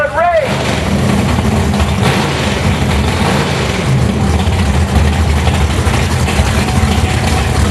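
A 582 cubic inch big block Chevy engine in a Camaro drag car at the track, a loud, steady low rumble holding for the whole stretch, with a brief rising whine at the start and announcer-style voices talking over it.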